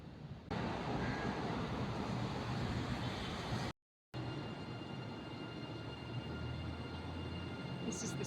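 A train pulling into KL Railway Station in Kuala Lumpur on the Batu Caves service, a continuous loud broadband rumble and rush of rail noise that fills the whole stretch with only a brief break.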